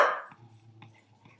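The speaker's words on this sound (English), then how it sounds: "Sorry, that's my dog." A single sharp dog bark bursts out at the start, then fades into a low, quiet rumble with faint bumps.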